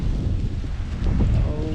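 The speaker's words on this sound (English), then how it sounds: "here comes another wind. It's windy." Strong gusts of wind buffet the microphone outdoors during a New York City snowstorm, a loud, continuous low roar that swells toward the end.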